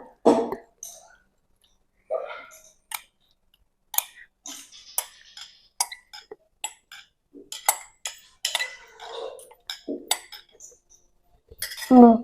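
Lemon pickle being mixed with oil in a pot, giving irregular spoon clinks and scrapes at close range with short pauses between strokes, no talking.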